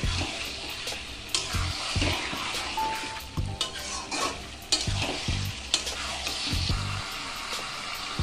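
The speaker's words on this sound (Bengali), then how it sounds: "এবার আমি খাসির মাংসটা দিয়ে দিলাম, দিয়ে ভালো করে কষিয়ে নেব" Mutton pieces sizzle and fry in a hot pan for a Bengali khasir mangsho jhol, with turmeric, while a spatula scrapes and stirs them in steady, repeated strokes, up close with no talking.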